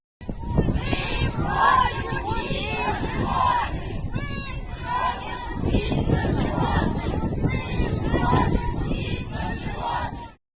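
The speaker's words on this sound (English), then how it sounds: "The crowd chants" Hundreds of protesters chanting in a street in Novosibirsk against the killing of stray animals: a loud, massed crowd roar of rhythmic shouted chants in repeated waves, close and sustained for about ten seconds.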